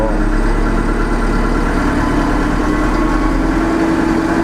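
A vehicle engine held at 1500 RPM with the hand throttle during a diagnostic procedure runs as a loud, steady, continuous drone, its pitch creeping slightly higher toward the end.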